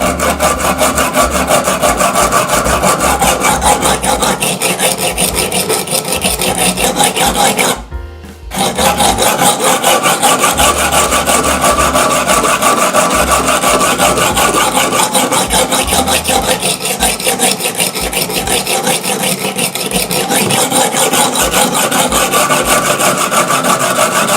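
A knife being sharpened on a Kazak M10 sharpener with an oiled stone, a loud continuous rasping scrape of steel strokes close up, with one brief pause partway through.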